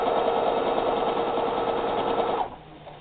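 A sewing machine stitches quilt binding at a corner with a steady, loud mechanical whir at close range. It runs continuously, then winds down and stops near the end.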